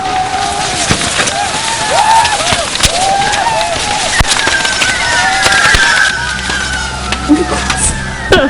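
Firecrackers and fireworks go off at the Tultepec bull festival in Mexico in dense, rapid crackling bursts with whistling streaks and sharp pops. A deeper rumble builds toward the end, and voices can be heard in the background.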